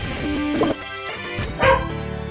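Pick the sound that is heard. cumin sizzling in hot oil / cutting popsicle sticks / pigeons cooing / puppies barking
puppies barking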